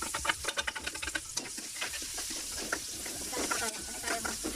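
Garlic and onion sautéing in a pan for Kapampangan-style chicken tinola, a steady sizzle broken by quick rhythmic stirring scrapes close by.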